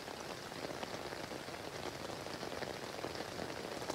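Light rain patters steadily on a tent tarp at a campsite at night, a dense, even hiss of drops close by with no pauses and no voices.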